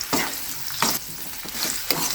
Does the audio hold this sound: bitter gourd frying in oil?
yes